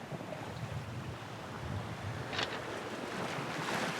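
A sailboat running wing on wing with main and headsail out through ocean swell, heard as a steady wash of water and wind rushing past the hull, with no talking.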